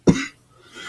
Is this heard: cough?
yes